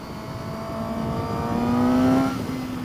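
Suzuki GSX-S750 motorcycle engine pulling through corners, a steady close drone that rises in pitch and swells toward the middle before easing off, with no talking.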